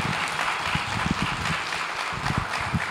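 Church congregation clapping during a Catholic healing sermon, a dense steady wash of hand claps with some louder nearby claps standing out, filling the whole stretch without speech.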